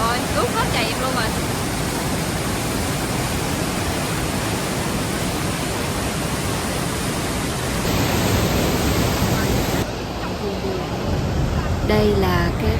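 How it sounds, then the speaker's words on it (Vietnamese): Johnston Falls in Banff National Park, a constant powerful roar of falling water, loud, close and unbroken throughout, masking other sounds. "Đây là cái cảnh tượng của cái thác Johnston nhìn từ trên cao"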